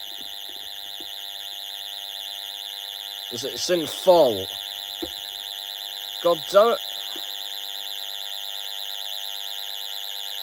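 A 1990s Pyronix Paragon Super intruder alarm system sounds a loud, continuous electronic tone without pause throughout, while someone speaks briefly over it in two short bursts.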